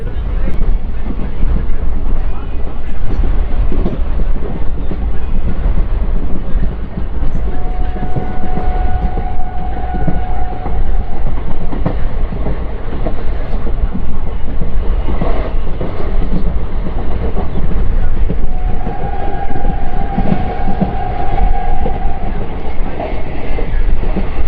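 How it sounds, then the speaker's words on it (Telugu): A passenger train running on a rural Indian line just after leaving a small halt station rumbles loudly and continuously, with clattering wheels and wind noise throughout and faint tonal squeals in places. "తెంబూరు రైల్వే స్టేషన్ నుంచి మనం డిపార్చర్ అయిపోయాము ఎగ్జాక్ట్గా 5 o'clockకి."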